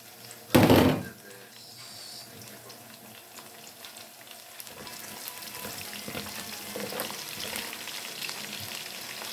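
Garlic hits a hot pan for beef kaldereta with a sharp burst of sizzling, then keeps frying at a softer, steady crackle with occasional stirring knocks.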